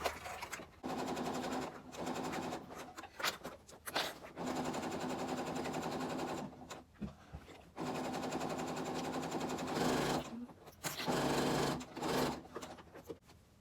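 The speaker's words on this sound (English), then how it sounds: "I'll be sewing all the edges together, leaving a 2-inch gap on the lining part" A sewing machine stitches the edges of a crochet bag's lining in a series of fast, steady runs broken by short pauses, close and moderately quiet.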